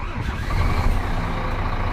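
A Scania P410 truck engine idles low and steady at around 500 rpm, a close, constant diesel rumble with no talking over it.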